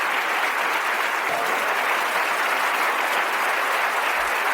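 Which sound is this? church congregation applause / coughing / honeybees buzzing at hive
church congregation applause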